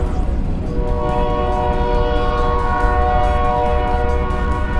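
A train rolls along a working railroad track in Woodstock, Georgia, loud and close, with a sustained horn-like tonal drone over a heavy rumble and repeated rhythmic clacks throughout.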